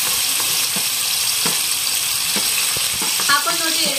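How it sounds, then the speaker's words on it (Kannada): Onion and tomato fry in hot oil in a pan, a steady broadband sizzle running throughout with a few soft stirring clicks and scrapes, close and continuous. "ಉಳ್ಳಾಗಡ್ಡಿ ಟಮಾಟಿ ಒಂದು ಸ್ವಲ್ಪ ಕೆಂಪಾಗಬೇಕು ನೋಡ್ರಿ, ಎರಡು ಆ ಥರ ಫ್ರೈ ಮಾಡ್ಕೊಳ್ಳೋಣ್ರಿ ಎಣ್ಣೆ ಐತಿ"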